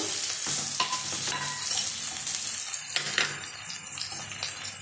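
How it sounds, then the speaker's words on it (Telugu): Beans and capsicum frying in a pan for upma, giving a steady loud sizzle with scattered clinks and scrapes of a stirring utensil, close by and with no talking. "ఇప్పుడు బీన్స్ వేస్తున్నానండి, క్యాప్సికం,"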